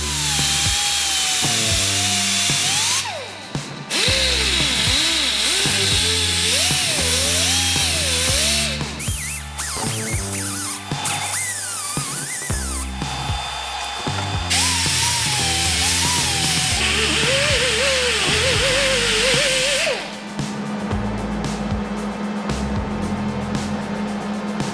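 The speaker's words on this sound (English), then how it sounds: "I'll cut the crack open more and weld it up." Power tool cutting into a cracked front suspension part on a 1976 BMW 2002, loud and continuous for the whole stretch, its pitch rising and falling as the cut changes, with brief breaks and a steadier tone near the end.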